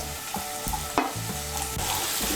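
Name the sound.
chopped capsicum stirred and frying in oil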